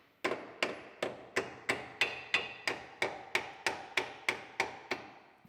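Sharp hammer blows drive a lower control arm into place on a 2012 Acura TL AWD, about fifteen evenly spaced metallic taps close by, each ringing briefly, with no talking.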